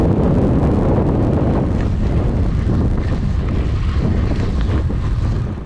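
A stiff west wind on a high mountain plateau between icefield peaks roars loud and continuous, buffeting the microphone with deep, steady rumbling gusts throughout.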